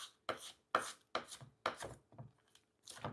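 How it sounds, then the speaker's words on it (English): A knife chops food on a cutting board for a Mediterranean chicken and rice dish, with about eight close, crisp strokes in an uneven rhythm. "So I'm just cutting, and I'm gonna cut this up a little bit."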